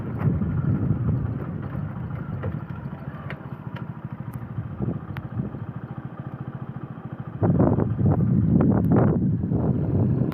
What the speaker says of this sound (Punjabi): ਮੀਂਹ ਕਾਫੀ ਪੈਣ ਲੱਗ ਗਿਆ